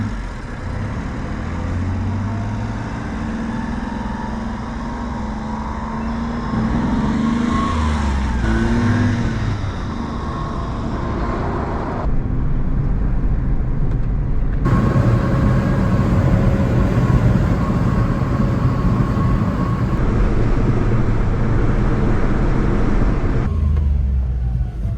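A Honda Acty kei truck cruising on a highway, its engine drone and road noise steady and loud throughout, with shifts in tone as it changes speed.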